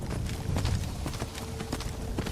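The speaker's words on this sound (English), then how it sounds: "I'm pretty sure Arvak is one of the fastest horses in the game." Summoned horse Arvak, a fast steed in Skyrim, gallops with a steady run of hoofbeat clip-clops, close and moderately loud, alone without talk.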